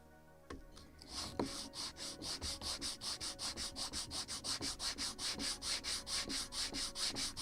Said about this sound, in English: And I need to sand one side. Where is my sanding block?